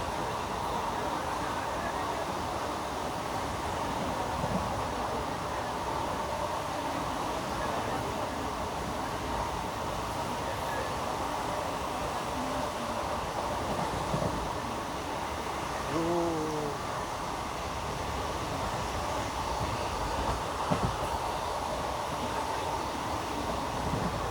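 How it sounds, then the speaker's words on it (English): The Ernad Express runs at about 110 km/h, giving a steady rumble with rhythmic wheel clatter on the track, heard from inside the carriage and unbroken for the whole stretch, with faint talk far in the background. "Enjoy the track sounds for a while."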